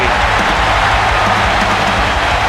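Arena crowd roaring steadily throughout a WWE 2K wrestling event in San Jose's SAP Center, a dense, loud wash of cheering with no break.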